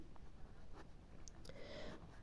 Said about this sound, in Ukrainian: Тому в зошит ми так і запишемо.